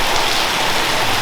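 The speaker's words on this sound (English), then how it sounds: "as you can see, it's raining" Rain falls steadily at a building site, a dense, even hiss of drops striking surfaces, loud and close with no voices.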